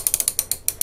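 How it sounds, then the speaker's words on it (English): A Saker universal socket wrench ratchets its handle on a bolt, making about ten quick, crisp, close clicks in under a second with a short pause near the end. "ratchet the handle"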